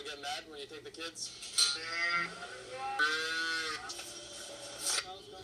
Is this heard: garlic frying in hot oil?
no